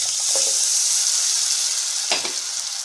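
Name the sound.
turmeric and ginger-garlic paste frying with mutton keema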